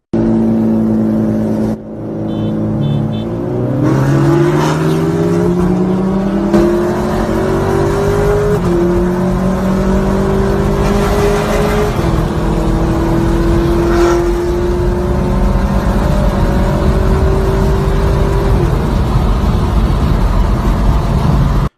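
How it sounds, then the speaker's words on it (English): A turbocharged inline-four Honda Civic FK8 and a V8 Dodge Scat Pack roar and accelerate side by side in a race, pitch climbing through gear shifts over a long continuous run, with steady road and wind noise. "Honda Civic FK8 inline 4 turbo front wheel drive versus a Scat Pack V8."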